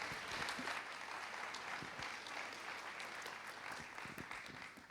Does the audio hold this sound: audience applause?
yes